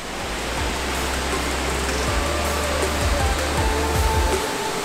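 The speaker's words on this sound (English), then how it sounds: "this waterfall is not only the tallest in Oregon" A steady roar of falling water fills the air, broad and continuous from Oregon's tallest waterfall, with faint low thumps underneath.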